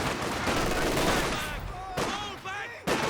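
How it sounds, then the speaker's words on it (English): Rapid machine-gun bursts crackle in a Company of Heroes 2 battle, loud, dense rattling fire that breaks off in short gaps, with a commentator talking over the gunfire. "Getting the machine gun up to assist."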